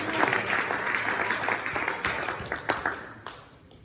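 A church congregation claps loudly during a Spanish-language sermon, sustained dense applause that thins out toward the end.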